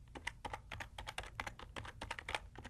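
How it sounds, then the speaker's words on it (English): Rapid, irregular keystrokes on a computer keyboard while entering code in a programming environment, close and clear with no talking. "in the expression field, I'll type in country list"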